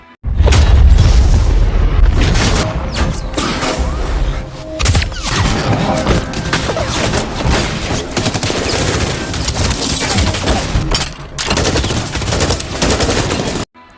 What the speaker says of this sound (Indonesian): tiba-tiba mobil yang dikendarai Jang dan Im Chul meledak sehingga terbalik